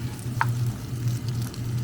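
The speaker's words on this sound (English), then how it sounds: "kind of frying these up with some butter" Gentle steady sizzling of food frying in butter in a pan, soft crackle and hiss close up with a low background hum.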